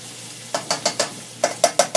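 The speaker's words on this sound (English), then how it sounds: "I cook the vegetables in about a tablespoon of butter" Vegetables cooking in about a tablespoon of butter in a pan, with a soft steady sizzle under a run of sharp, evenly spaced utensil scrapes and taps, close and fairly loud.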